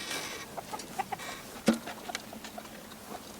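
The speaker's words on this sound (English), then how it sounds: "this rooster's trying to act like he wants to be mean." Soft, scattered clucks from a rooster amid faint background hiss, with one louder sharp cluck in the middle; no voices.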